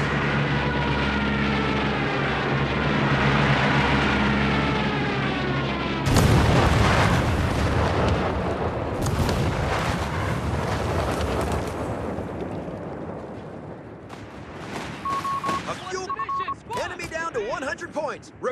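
Stuka dive bomber attack in Company of Heroes 3's Italy campaign: a droning aircraft gives way to a sudden heavy explosion, then rumbling debris and scattered further blasts, with soldiers shouting amid the chaos.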